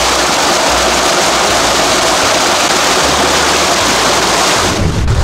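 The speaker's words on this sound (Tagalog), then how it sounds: "Basta palabas lang po yung tubig mga kalab kasi sobrang dami na po ng talas" Water rushing steadily out of a fishpond as it is drained, a loud continuous broadband gush without letup, with a brief change in the flow near the end.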